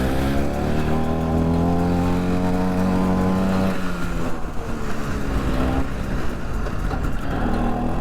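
A 1966 Piaggio Vespa 150 Sport scooter engine runs steadily while riding, a continuous close buzzing drone that shifts pitch partway through as the rider changes gear, with no talk over it.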